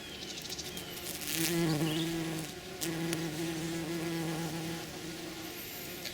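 Insects buzz steadily around chicory in full bloom in a permaculture garden, a close, continuous drone with sustained pitched whine that swells and dips over several seconds, no voices.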